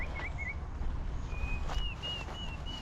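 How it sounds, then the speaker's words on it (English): Several birds sing outdoors near a dry-country thorny tree, thin whistled phrases repeating at moderate distance over a steady low background rumble, with no one talking. "can you hear those birds? That bird is singing quite nicely."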